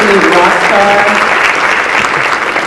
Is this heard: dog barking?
no